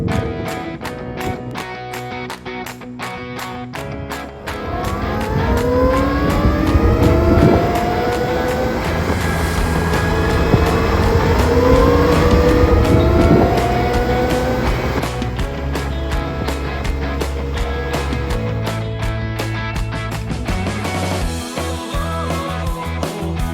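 SONDORS Meta AT electric motorbikes ridden outdoors, giving a whirring motor whine that sweeps up and down in pitch with passing wind and tire rumble, loud and continuous with no talking.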